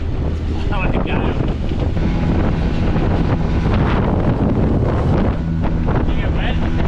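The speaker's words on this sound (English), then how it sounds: "but it's blowing the gale." Gale-force wind of about 35 knots roars across the microphone on a boat, a loud, steady broadband buffeting that never lets up, with faint voices partly buried underneath.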